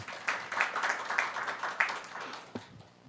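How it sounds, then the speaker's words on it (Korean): Audience at a science and technology innovation policy forum gives a presenter a modest round of applause, scattered claps that rise and ebb unevenly and fade toward the end, fairly faint in a quiet hall. "큰 박수 부탁드리겠습니다"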